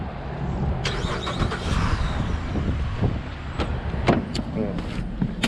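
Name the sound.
Chevrolet Impala SS engine starting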